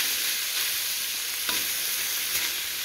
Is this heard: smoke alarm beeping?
no